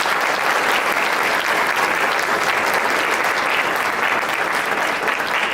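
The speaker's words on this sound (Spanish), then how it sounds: "Démosle un fuerte aplauso al Rey de Reyes y Señor de señores" A church congregation applauds at a sermon, a dense, even roar of clapping that holds steady at full volume from start to finish with no voices on top.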